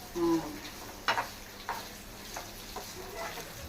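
Coconut pieces fry in a pan until golden, a steady low sizzle running throughout with a few soft stirring scrapes and clinks near the start and middle, close by and fairly quiet.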